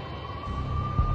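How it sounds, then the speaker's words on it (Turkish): Police sirens in Max Payne hold a single steady, high wailing tone over a low rumble, heard briefly from a moderate distance. "I could hear the sirens. Their wail was a crescendo."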